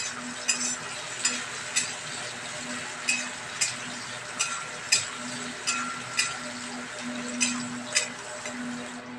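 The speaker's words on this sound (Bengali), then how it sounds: "পেঁয়াজটাকে একটু ভালো করে ভাজা ভাজা করে নেবো" Chopped onion frying in hot oil gives a soft, steady sizzle, with a spatula scraping and stirring the pan at regular intervals, up close and fairly quiet.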